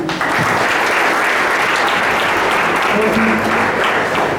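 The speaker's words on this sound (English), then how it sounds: "Mokshita, big round of clapping." Students in a high school applaud a guest speaker's talk, a dense, loud round of clapping that holds steady from start to finish with no voices over it.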